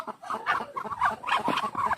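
Farm ducks in Lagonoy, Camarines Sur give a close, busy run of clucking, quacking calls in quick bursts, with no other sound standing out.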